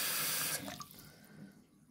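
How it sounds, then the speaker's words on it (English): Water from a tap running into a sink and swirling down the drain, a loud rushing splash at first that quickly fades to a quieter gurgling trickle. "So you see, water goes around down there like that."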